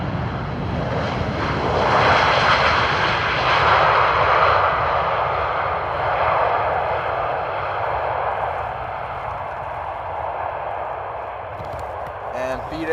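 An airliner arriving at Amsterdam Airport roars loudly overhead, its jet noise swelling over several seconds and then slowly fading, with a voice talking over it.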